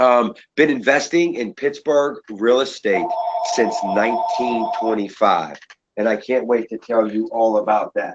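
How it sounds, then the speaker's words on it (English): Telephone ringing in the background of a room in Pittsburgh, a steady electronic ring lasting about two seconds while a person keeps talking over it. "I'm sorry that my phone's ringing in the background."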